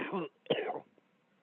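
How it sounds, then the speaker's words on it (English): An audience member coughs twice in quick succession nearby, two short harsh bursts followed by faint room noise. "I heard somebody cough."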